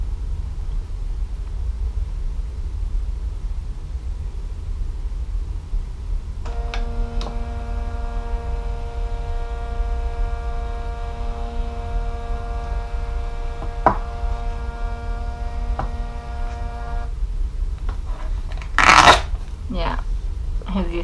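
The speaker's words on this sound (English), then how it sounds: "I'm going to open my printer and they show you how it's going to print" A small Phomemo printer runs a page, giving a steady, close motor whine that lasts about ten seconds and then stops, followed by a few sharp clicks and rustles.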